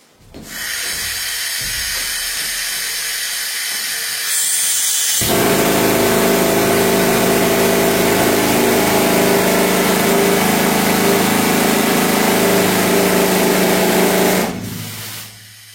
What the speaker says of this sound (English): I'm going to demonstrate the jackleg drill.